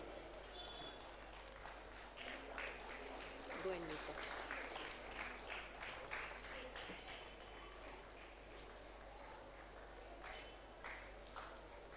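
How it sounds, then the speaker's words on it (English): Faint, distant clapping from a school audience at a 25th annual day function at Mukkala Nammalwar Chetty Vivekananda Vidyalaya, a scattered patter of hands with soft voices mixed in. "Give him a big round of applause."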